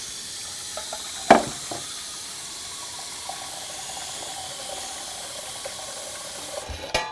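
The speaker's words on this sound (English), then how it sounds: "We'll add some water." Water being run into a kitchen steamer for cooking shrimp, a soft, steady stream that continues throughout, with a sharp metallic clank near the start and another knock at the end, and no talking.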